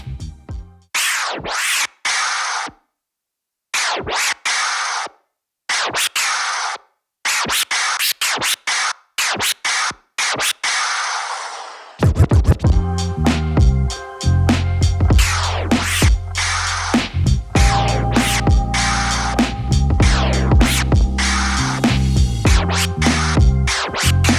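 Rapid, choppy baby and forward vinyl scratches on a Pioneer DJM-S5 mixer cut a sample back and forth, first alone in sharp bursts, then continuing loudly over a beat.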